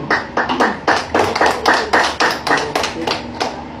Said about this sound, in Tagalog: Yung mga pumalakpak ng malakas, may magandang bagay ang darating at naghihintay sa kanya